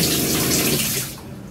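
Water from a shower on a DIY narrowboat sprays in a loud, steady rush for about a second, then cuts off abruptly, leaving near quiet.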